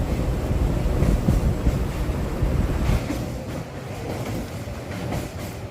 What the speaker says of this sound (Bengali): আমাদের ট্রেন এখন কোলাঘাট ব্রিজ পেরোচ্ছে।